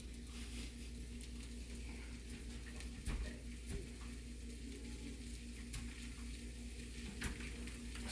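Food sizzles steadily in a frying pan while a bird's nest dish is cooked, a constant close hiss with a few light clinks of utensils and no talking.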